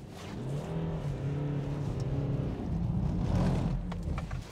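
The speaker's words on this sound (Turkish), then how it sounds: "Şöyle bir kar kalınlığını geçelim." BMW 320 engine driving and sliding through thick snow, a steady, moderately close drone that rises slightly in revs midway before easing off, with no voices.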